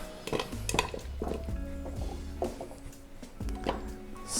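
Carrot pieces tumbling into a chicken stock pot with clinks and knocks against the metal, several irregular close clatters, fairly quiet, alongside a low hum.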